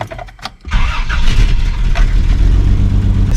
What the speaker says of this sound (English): as soon as I give it throttle, it wants to die